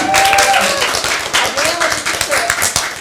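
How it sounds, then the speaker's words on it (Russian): Audience clapping at a Ukrainian book presentation and record-setting ceremony, a dense burst of hands filling the whole stretch, mixed with overlapping chatter and voices from the room. "аплодисменты, пожалуйста"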